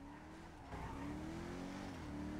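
A car engine in the FiveM video game hums and rises in pitch as it accelerates, a steady mid-level drone with no talk over it.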